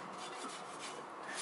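Clean cotton cloth wiping copper paste off a Toyota Corolla front brake disc, a soft continuous rubbing and rasping close up, faint and steady for a moment with no voices.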